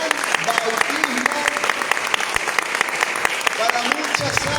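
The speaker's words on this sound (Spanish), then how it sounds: "¿Cuántos le dan un aplauso al Señor?" A church congregation claps in sustained, dense applause, steady and loud, with a voice speaking over it.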